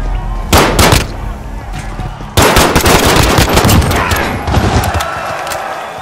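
Heavy automatic gunfire in the Call of Duty: Warzone battle royale, dense bursts of rapid shots with a short opening volley, then sustained loud firing from about the middle onward.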